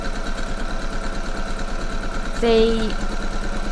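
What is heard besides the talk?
sewing machine stitching skirt side seams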